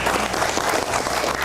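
Audience applause for the comedy trio Dono Kasino Indro at a live talk show, a dense, steady clapping from a crowd that holds at an even, loud level throughout with no break.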